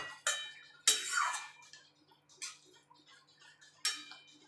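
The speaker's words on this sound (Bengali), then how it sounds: "বড়িটাও দিয়ে দেবো, দিয়ে ভালো করে নাড়াচাড়া করে নেব।" A utensil scrapes and knocks against a pot as fried bitter gourd, eggplant and bori are stirred into vegetables, giving four or five separate bright clatters with quiet pauses between them.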